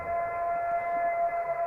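A recorded alleged Bigfoot howl, a sustained steady siren-like wail played back, loud and unbroken for nearly two seconds with no talking over it.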